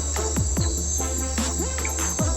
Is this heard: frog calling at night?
yes